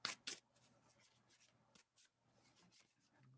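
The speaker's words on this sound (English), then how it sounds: "I shuffle this deck a little bit different" A deck of tarot cards is shuffled by hand, opening with two sharp riffling bursts followed by soft, intermittent card rubbing and flicking, quiet and close.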